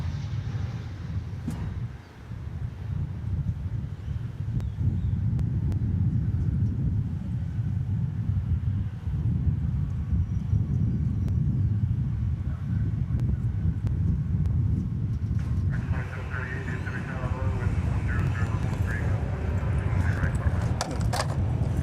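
Passenger airplane landing at DFW Airport, a steady low roar rising beneath gusting wind noise on the microphone, with engine whine brightening toward the end.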